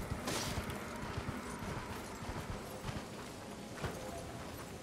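Horse hooves in the Elden Ring video game clip-clop in a steady, quick rhythm, close and fairly quiet over a soft ambient game background, with no talking.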